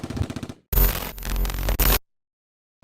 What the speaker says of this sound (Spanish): Chicos, ¿oyen esos disparos?